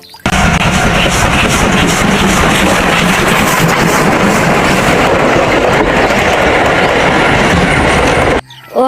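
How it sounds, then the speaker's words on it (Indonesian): Toy Thomas train playing a loud, steady electronic chugging and rattling rail sound effect, continuous for about eight seconds close to the listener. "yang ini kereta api Thomas"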